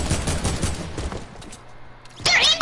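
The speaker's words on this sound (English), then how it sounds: "SMG out, and I'm getting sprayed." Rapid SMG bursts in a first-person shooter video game, loud and close, several stuttering volleys in the first half, a quieter lull, then a sharp harsh blast near the end.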